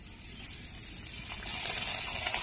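Sabudana papad dropped into hot oil gives a steady, rising frothy hiss of frying, a soft bubbling fizz that grows slightly louder over a couple of seconds, with no voices.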